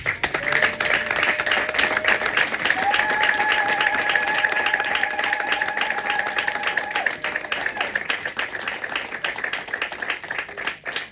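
A church congregation at a Sunday Christmas Eve service claps steadily for about eleven seconds, a dense, even wash of hands with a faint sustained tone beneath it.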